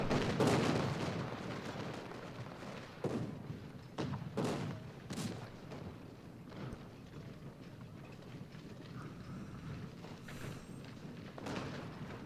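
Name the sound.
cannon artillery fire in video game Ultimate General: Gettysburg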